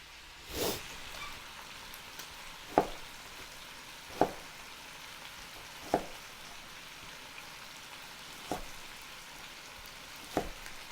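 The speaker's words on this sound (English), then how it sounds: "Let me stir this roux" A roux for gumbo being stirred in a pot, faint sizzling under soft, regularly spaced scrapes of a spoon about every one to two seconds.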